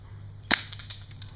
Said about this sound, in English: if you have a gun, even a BB gun will work if you need to